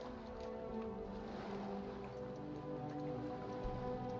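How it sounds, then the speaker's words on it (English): Soft, steady rain patters outdoors in the video game Skyrim, a faint, even hiss with no talking. "Ooh, it's raining outside."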